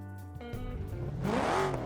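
A car engine in the BeamNG.drive driving game revs and rises in pitch as the car pulls away on a winter drive, a steady hum climbing into a louder whine toward the end, with no talk over it.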